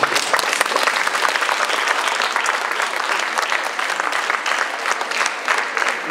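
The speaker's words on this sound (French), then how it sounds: "si vous pouvez les applaudir, même si vous ne les connaissez pas, les bénévoles de la Maison de la francophonie" An audience at a Francophonie festival celebration in Marseille applauds the volunteers, a bright, even roar of many clapping hands sustained without a break from start to finish.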